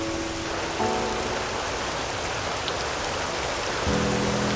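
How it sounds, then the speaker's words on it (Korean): Steady rain falls in a dense, even hiss throughout, close and constant with faint low tones coming and going underneath, and no voices. "우리는 마치 한 곡의 클래식 음악을 듣는 것처럼 가만히 빗소리를 감상하기도 하죠."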